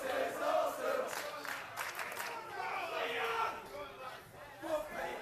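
A wrestling crowd in Leeds roars and chants through a tag-team match, a dense, steady wall of voices swelling at moments, heard from within the audience.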